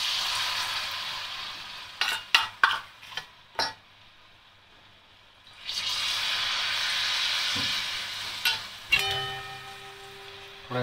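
Buckwheat (kuttu) dumplings fry in hot ghee, a bright hissing sizzle that fades and returns, broken by sharp clicks and taps of a spoon against the pan, close by without talk.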